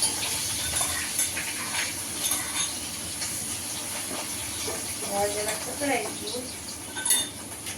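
Garlic, ginger and chillies stirred in a hot pan with asafoetida, giving a steady loud hiss and sizzle with light scraping and clinks of a spoon against metal throughout.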